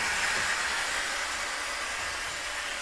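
A steady loud hiss of air rushes out continuously as train brakes release air after the dead man's handle is let go, with no voices.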